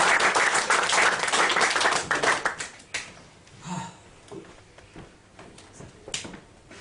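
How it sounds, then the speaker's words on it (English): Audience applause at a live comedy mind-reading show, a loud burst of clapping for a couple of seconds that thins out into scattered claps and taps as the room quiets. "Give Gordon a round of applause."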